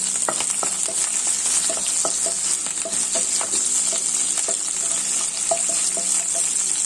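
Curry leaves and green chillies frying in hot oil for a Kuttanad-style duck roast, a steady loud sizzle with bright crackling pops scattered throughout, no voices.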